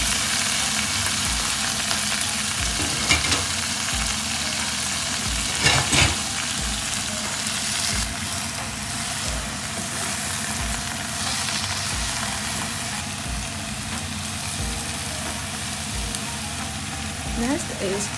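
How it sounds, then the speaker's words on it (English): Cabbage stir-frying with garlic in a hot pan, giving a steady, continuous sizzle and frying hiss for the whole stretch, with a few louder scrapes and stirring clatters along the way. "Next, you need to put the cabbage into the hot pan."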